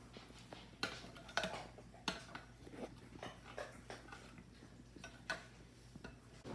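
A spoon stirs heavy cream into cold soup, making faint, irregular clinks and taps against the bowl with soft scraping between, close by and quiet with no talking.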